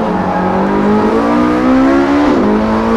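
An all-wheel-drive race car pulling out of a tight second-gear corner on a circuit, its engine droning loud and close from inside the car, pitch climbing steadily before a sudden drop as it shifts gear.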